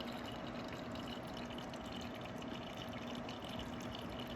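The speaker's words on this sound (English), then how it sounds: "you can definitely hear water going up and down" Water circulating inside a Luma evaporative cooler fan, a continuous soft gushing and trickling wash with a steady pump hum underneath, even and unbroken, heard alone at low level.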